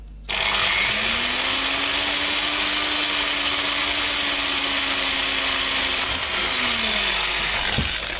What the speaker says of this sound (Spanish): Este taladro que utilizo es bastante antiguo y no es de los de cabeza ajustable